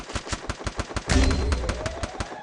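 Rapid AK rifle fire in an online shooting video game, with sharp evenly spaced shots popping in a quick burst and a heavier blast in the middle, all close and loud.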